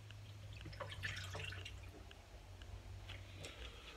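Faint drips and trickles of brine draining off brined chicken, a few soft wet patters over a low background hum.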